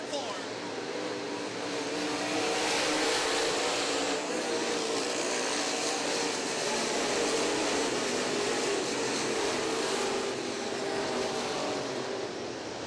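Modified race cars circle a track together at a Budweiser Modified Twins event, making a continuous, loud, roaring engine drone that stays steady for over ten seconds, with a commentator's voice over it.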